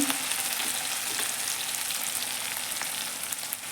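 Mixer-ground onion sautéing in a pan with cumin, mustard seeds and masala, a continuous close sizzle and crackle with faint stirring, no voices.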